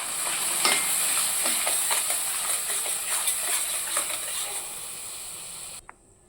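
Chili, coriander and cumin powders sautéing in a pan give a steady close hiss and sizzle with scattered light scraping strokes, cutting off abruptly near the end.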